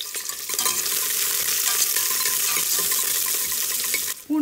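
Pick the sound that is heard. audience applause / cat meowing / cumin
cumin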